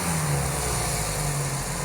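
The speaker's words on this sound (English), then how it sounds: "revs up real nice and easy and comes back down to a nice purr" A cafe racer motorcycle engine runs close by with a steady, even hum, holding a smooth idle for a moment with no voices.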